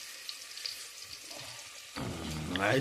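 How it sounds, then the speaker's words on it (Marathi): Steady hiss of chopped onions frying in hot oil for a crab curry, fairly soft at first, then a voice cuts in and talks over the sizzle near the end. "फोडणी द्यायचं चालू बघा कांदा टाकलाय तेल टाकून तेल कडवून कांदा कांदा भाजायचा आलाय"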